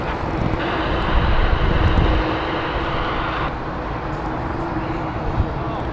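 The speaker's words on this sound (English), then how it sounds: "So Virgin's Airbus A330neo." Virgin Airbus A330neo jet airliner at Heathrow, a moderate, steady jet rumble with some wind buffeting, louder in the first couple of seconds and then holding at a lower level.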